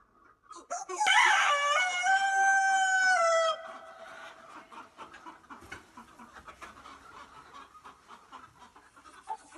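A wild rooster crows loudly once, a long drawn-out call, followed by quieter scattered bird sounds and faint rustling on a farm.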